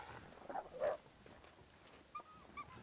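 A wolf in the survival game The Long Dark gives a few soft, faint whimpers and yelps, brief whines rising over a quiet game background.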